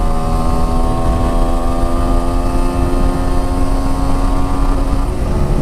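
A TVS Apache RTR 200 4V motorcycle (2021) in sports mode revs hard at full throttle, its engine holding a loud, steady high-pitched whine near 11,000 RPM amid heavy wind roar, ending with a slight pitch drop.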